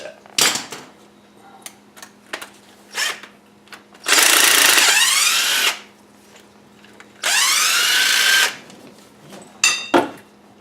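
An impact tool loosening the engine belt tensioner bolt on a GMC Acadia, two long loud whirring bursts with rising-falling pitch, separated by clanks and handling knocks of metal parts.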